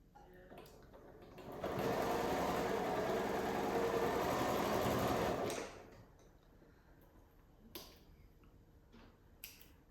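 A sewing machine stitching fabric scraps for a scrappy square-in-square quilt block, one continuous whirring run of about four seconds, close and fairly loud, with a few light clicks and handling sounds after it stops.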